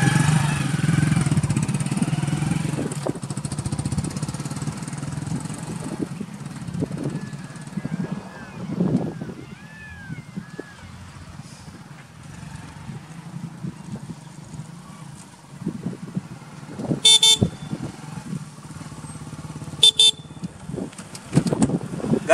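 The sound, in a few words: Hero Splendor motorcycle engine running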